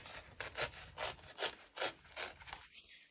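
A paper page trimmed for a patchwork journal gives a series of close, rhythmic cutting strokes, each a short rasping swish, about six in a row, then a quieter tail with no talking.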